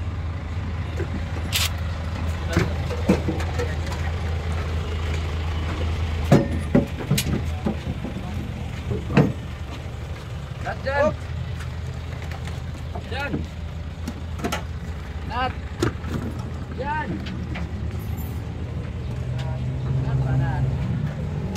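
A Suzuki Wagon R with an R06 engine idles in a steady low rumble, with clicks and thumps on top and people talking nearby.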